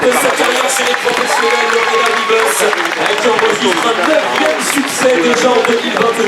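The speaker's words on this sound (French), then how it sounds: "Allez mesdames et messieurs, on la raccompagne sous vos applaudissements." Crowd applause and cheering from a roadside audience at a women's cycling stage finish, steady and loud throughout, with a commentator talking over the top.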